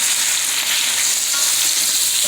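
Red skin potatoes fry in oil in a pan, browning on the bottom, giving a steady, close, hissing sizzle throughout.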